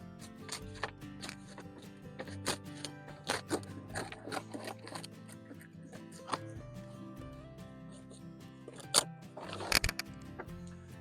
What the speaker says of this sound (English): Now I just need scissors just to trim off the edges